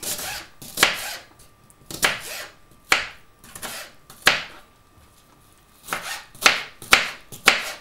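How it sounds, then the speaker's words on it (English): A knife chops an onion finely on a board in sharp, close strokes, some single and some in quick runs, with short pauses between bursts. "Now we can chop."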